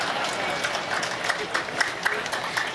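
An audience at a Tamil public speech claps in scattered, thin bursts, a patchy patter of hands that rises and falls briefly, with some crowd murmur underneath.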